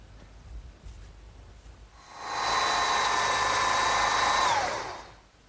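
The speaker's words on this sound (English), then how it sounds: "I want to drill those next." A power drill boring a 7/8-inch-deep hole in wood for a garden swing, spinning up into a steady whirring whine for about two seconds before winding down, close and fairly loud with no talking.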